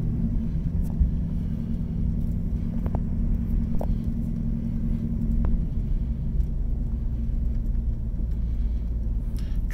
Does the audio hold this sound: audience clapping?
no